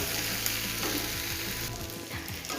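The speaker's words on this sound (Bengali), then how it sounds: "এবারে আলুটা, বেগুন আর পেঁয়াজ এগুলো ভালো করে ভেজে নেব" Chunks of potato, brinjal and onion fry in a pan with a dense, loud sizzle, stirred with spatula scrapes, with no talking.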